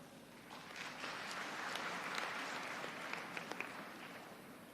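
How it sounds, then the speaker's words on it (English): Audience applause welcoming the speaker at the PES University convocation in Bangalore, a broad sustained wash of clapping from a large hall, moderately distant and steady, swelling slightly midway. "Please give a big round of applause"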